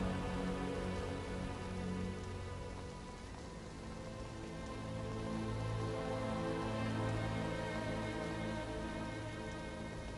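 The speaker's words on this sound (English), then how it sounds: "The rain begins to pour once more, thunder and lightning now overhead." Heavy rain pouring down, a dense steady wash of drops on surfaces that swells slightly midway and continues unbroken, with no voices.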